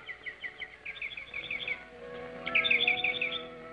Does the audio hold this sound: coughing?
no